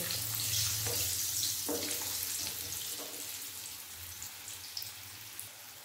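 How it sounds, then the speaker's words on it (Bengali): Potatoes fry in hot oil with a steady, fairly loud hiss and crackle that eases slightly over time, plus a few faint clinks of a utensil against the pan. "তেলের মধ্যে দিয়ে দেবো আলু, আলুর মধ্যে আর লবণ হলুদ দেবো না, ভালোভাবে ভেজে নেবো।"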